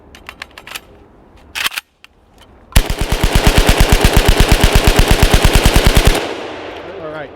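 A machine gun fires a long, sustained burst from a paratrooper magazine, rapid, evenly spaced and very loud up close, after a few sharp single clicks and clatters, with a ringing tail as the firing stops.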